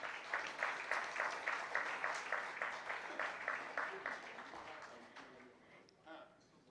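Conference audience applauding as the IPA President is welcomed on stage: steady, even rhythmic clapping from a large crowd, fairly loud at first, then fading out while a voice speaks near the end.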